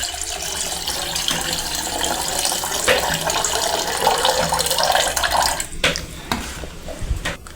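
Water running and splashing steadily as soaked chickpeas are drained, a continuous close rush like a tap into a sink, ending in a few clattering knocks of the vessel.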